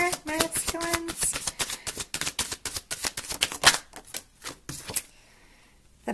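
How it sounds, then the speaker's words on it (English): Tarot cards being shuffled by hand, a rapid run of crisp riffling clicks and snaps for about five seconds that then stops abruptly, leaving a faint hiss. "Let me shuffle."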